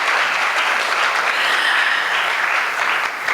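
Dense, even clapping from a temple audience in Chicago follows a dance performance, loud and sustained without a pause.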